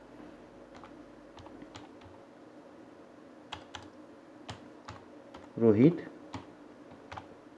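Someone types data into a spreadsheet on a computer keyboard, with scattered key taps heard close by. One word is spoken partway through.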